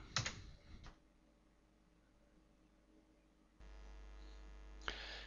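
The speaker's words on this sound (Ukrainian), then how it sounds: "Вводимо з клавіатури одиницю." A computer keyboard key is pressed, giving a few faint, crisp clicks over a quiet room with a steady electrical hum underneath.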